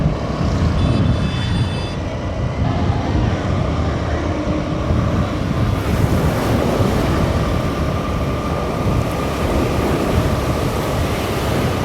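Sea waves at Daman at night, a steady broadband wash of surf with wind buffeting the microphone, continuous and fairly loud throughout with no voices.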